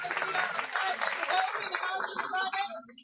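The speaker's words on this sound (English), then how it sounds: "Can we give a big round of applause to" An audience at a general membership meeting gives a round of applause, a dense wash of clapping that holds steady and then thins out toward the end. It's fairly loud and close, with a bit of laughter mixed in.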